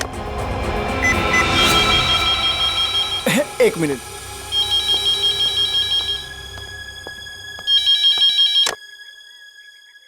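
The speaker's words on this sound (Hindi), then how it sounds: "फोन करता हूँ। फोन।" A telephone rings in a cartoon scene while a call is being placed, with repeated electronic ringing bursts, a voice speaking briefly early on, and a final ring pattern before it cuts off.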